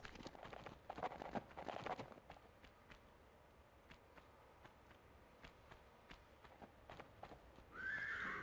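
Horse in the Tomb Raider I video game, faint hoofbeats and clip-clop steps with a brief whinny early on, quiet throughout with a louder burst near the end.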